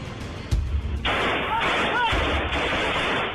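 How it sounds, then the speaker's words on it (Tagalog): Two sharp gunshots ring out a couple of seconds apart amid a noisy, hissing background in Zamboanga City. "Umalingaw-ngaw ang mga putok ng baril sa kasadang ito sa Zamboanga City."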